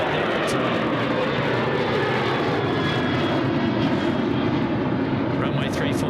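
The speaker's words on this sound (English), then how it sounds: "we're just letting a Qantas 737 departure slide there" A Qantas Boeing 737 departing Sydney Airport roars steadily and loud, its jet engine noise broad and sustained throughout with no letup, while a voice talks underneath the engine sound.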